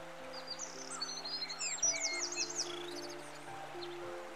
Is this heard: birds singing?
yes